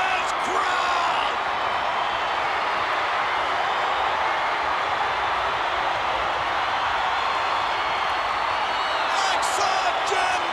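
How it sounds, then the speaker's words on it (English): Packed WrestleMania 9 arena crowd roaring in a loud, sustained wash of cheering after a wrestling victory, with brief whistles and shouts near the end. "Listen to this crowd."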